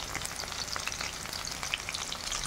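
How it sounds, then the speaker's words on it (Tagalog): Pork sautéing with onion and garlic in a pan gives a soft, dense sizzle with scattered crackles and pops throughout. "Ginisa ko ng onion at garlic."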